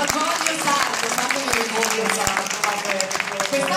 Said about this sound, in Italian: Grande Fabio, un applauso a te